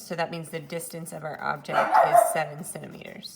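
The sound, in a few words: dog barking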